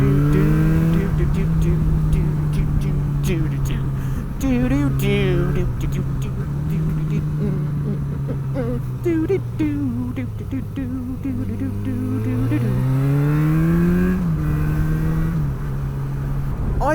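Motorcycle ride with a loud steady engine drone that shifts in pitch as the rider changes speed, heavy wind buffeting throughout, and a voice talking intermittently over it.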